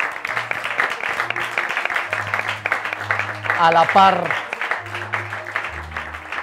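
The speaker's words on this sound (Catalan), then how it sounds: "els demano, de fet, un aplaudiment" An audience at a Tarragona radio election debate applauds: clapping runs throughout under a voice speaking over it, with a brief tonal sound near the middle.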